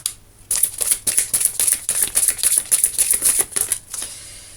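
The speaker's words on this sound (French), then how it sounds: "elles sont tombées, je vais les prendre." Tarot cards clatter and slap down in a dense run of crisp taps, then get gathered and shuffled back up by hand, close and fairly loud, with no voice.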